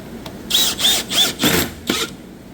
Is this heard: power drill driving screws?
yes